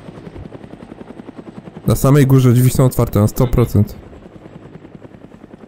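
A helicopter in Arma 3 beats with a rhythmic, regular rotor chop throughout, while someone talks loudly over it in the middle.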